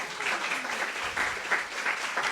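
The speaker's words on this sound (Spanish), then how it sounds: "aplauso." Studio audience applause during a Spanish-language book talk show, a steady wash of clapping lasting a couple of seconds at moderate level with no one speaking over it.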